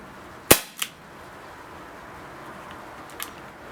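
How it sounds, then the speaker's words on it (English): A Baikal MP-655K CO2 pellet pistol fires one sharp shot, followed by a softer click and later a faint metallic tick, in a quiet room. "We're going to shoot 8 rounds with this chronograph right now"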